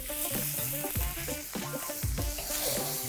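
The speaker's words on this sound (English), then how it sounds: "I'm all about that when I'm wok frying" Pineapple sizzles loudly in a hot wok while it is stirred and tossed, with clanking scrapes of a utensil over the steady hiss.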